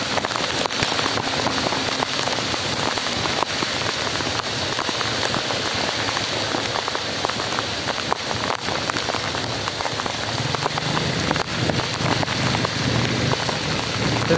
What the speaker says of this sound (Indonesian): Deras banget guys hujannya.